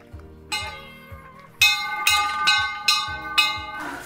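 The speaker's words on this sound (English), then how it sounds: "You will ring the bell and then we'll go do the paperwork." A hand bell at a horse shelter rings in a series of bright, clear metallic strikes, about six rings spaced roughly half a second apart, each decaying briefly.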